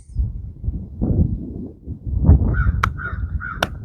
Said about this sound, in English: I'm thankful for the birds in the sky, the sounds, this beautiful lake